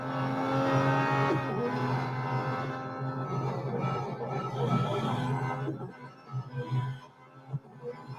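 Red Bull race car engine in the video game Real Racing 3, a loud continuous engine drone with steady harmonic tone that shifts pitch and grows rougher and more uneven toward the end.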